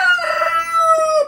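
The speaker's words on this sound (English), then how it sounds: "and roosters making noise." One rooster lets out a single loud, close crow lasting just over a second, sustained and then trailing off, alone with no talk.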